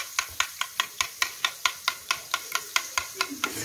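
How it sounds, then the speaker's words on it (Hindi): A spoon mashes and mixes dip sauce in a bowl with quick, steady taps, about four per second, close and fairly quiet with no talk. "अब हम इसको बहुत अच्छा मैश करेंगे।"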